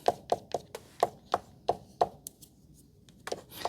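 A palette knife taps onto watercolor paper while an abstract landscape is painted: about a dozen crisp, close, quiet taps in a loose, uneven rhythm, with a short gap near the end and no talking.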